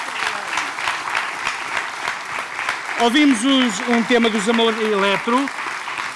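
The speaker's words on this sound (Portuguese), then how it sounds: "Uma salva de palmas para o Tonico Goulart." Audience applause for a guitarist, Tonico Goulart, on a Portuguese TV music show, steady broadband clapping throughout while a voice speaks over it in the second half.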